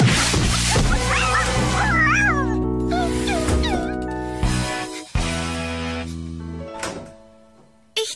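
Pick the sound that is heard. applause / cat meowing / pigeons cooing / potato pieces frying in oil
cat meowing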